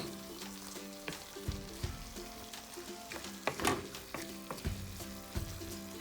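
Vegetables for vegetable ramen noodles being stirred in a hot pan, with a steady sizzle broken by irregular scraping and clacking knocks of a utensil, close and moderately loud, no voices.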